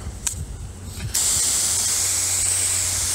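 After a few quiet handling clicks, a garden hose nozzle on cone spray bursts on with a loud, continuous hissing rush of water that holds steady to the end.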